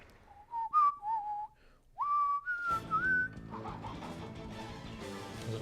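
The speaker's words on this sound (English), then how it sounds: "There's a weird noise there. It sounded like chickens." A whistly, warbling cluck-like call from a video game scene in Bravely Default, a few rising and wavering tones in the first three seconds, followed by a softer busy jingle of game sounds.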